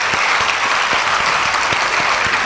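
An audience at a Gujarati motivational talk breaks into loud, dense applause, many hands clapping at once in a steady full roar throughout the short burst.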